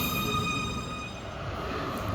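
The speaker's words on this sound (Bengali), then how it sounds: "এই যে আসছে এই মেট্রো" A steady rail rumble with high whining tones as a metro train rolls into a station in Munich, continuous and fairly close, no talking.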